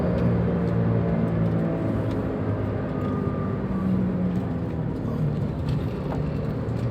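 A turbocharged Toyota Xenia 1000 with a Blackcore Ultimate turbo revs hard in second gear, a loud sustained engine drone with a faint whirring whine on top.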